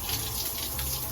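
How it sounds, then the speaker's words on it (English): Shower water running steadily, a continuous broadband hiss of spray close by, with no voices. "why am I in the shower, you ask?"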